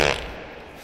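Cartoonish fart effect in the video game Toilet Simulator, one short burst that fades out within a second, heard alone.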